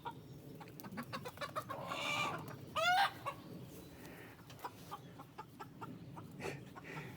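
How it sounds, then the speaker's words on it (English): Backyard homestead chickens from two hatches, older and younger birds, cluck softly and intermittently, with a louder rising squawk in the middle, heard close by in a quiet garden setting. "There's two hatches of birds in here."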